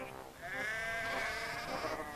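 Sheep bleating as farmers unload them from wagons at a hillside yard, a sustained, wavering bleat or overlapping bleats carrying steadily for about two seconds, fairly close and clear.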